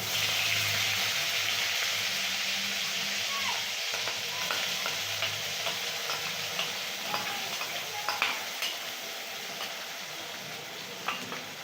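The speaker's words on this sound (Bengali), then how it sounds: "জিরে ভাজা হয়ে গেছে এরপর মা এখানে দিচ্ছে পেঁয়াজ বাটা" Onion paste fries with cumin seeds in a pan, a dense, steady sizzle that is close and fairly loud, with scattered crackles and stirring scrapes toward the end and no talking.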